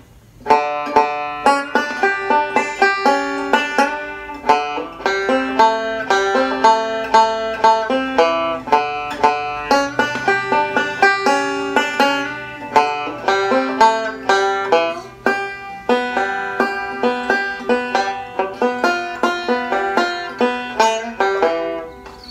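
Bright plucked banjo notes roll quickly and continuously through two measures of a lively picked passage with sixteenth notes, close and clear, with no talking.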